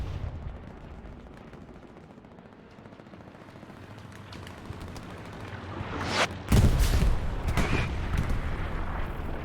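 Video-game gunfire from inside a church tower breaks out in a sudden burst of sharp reports near the end, loud and rattling over a low, steady background rumble.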